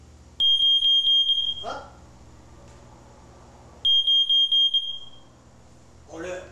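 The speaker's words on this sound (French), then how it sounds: "On a un système d'alarme qu'on peut programmer la hauteur de la sonde pour l'eau" A water detection alarm, its probe dipped in water, sounds two sharp bursts of rapid high beeping, each about a second long, with a short exclamation and some rustling between and after.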